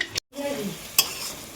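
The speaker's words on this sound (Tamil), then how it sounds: "எண்ணெய் ஊற்றி கடுகு போட்டாங்க. இது நல்லா பொரியட்டும்." Mustard seeds frying in hot oil in a pan, a steady close sizzle with a brief stir or clatter partway through and no talking.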